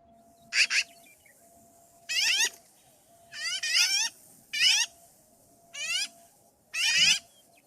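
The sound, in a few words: black-billed magpie call recording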